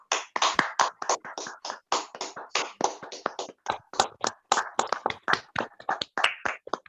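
An audience at a church prayer meeting claps in welcome for a bishop: steady, fairly even applause carried for several seconds, close and crisp, with no talk over it.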